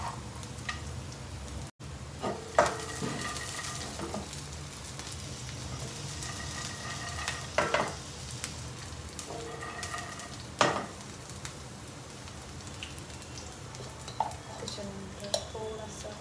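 Whole peanuts frying in a pan of hot oil for sabudana khichdi, a steady close sizzle with occasional stirring clinks and scrapes, no talk over it.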